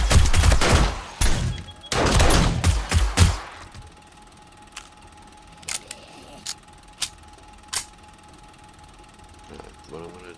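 Rapid bursts of gunfire ring out in 7 Days to Die Alpha 20, several loud volleys in quick succession, then quieter scattered mechanical clicks and taps.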